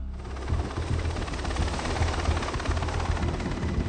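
Helicopter in flight near the southern border, a loud steady rotor thrum with a rapid pulsing beat heard from inside the cabin.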